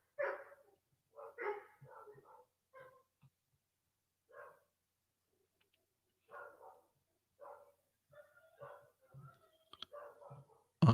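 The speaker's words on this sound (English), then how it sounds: "If you guys hear dogs barking out there, I apologize." Dogs bark outside, heard indoors as a faint, distant series of separate barks and yelps, irregularly spaced with quiet gaps between them.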